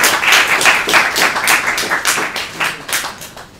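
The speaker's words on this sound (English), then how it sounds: "a round of applause for them" Audience applause at a Cybersalon games-culture event: dense, sustained clapping from a live crowd, fairly loud and steady across the whole stretch with no talk over it.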